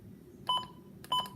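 Two short electronic beeps, about half a second apart, come from a weather radio as its time setting is adjusted; the tones are faint and close over a quiet background hum.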